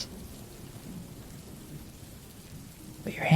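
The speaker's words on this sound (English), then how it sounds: "the sound of rain with thunder really makes my mind get in peace" Rain with thunder as a sound effect in a Godot game, a steady low rumble of rainfall and distant thunder that holds evenly, with a brief sharper sound breaking in at the very end.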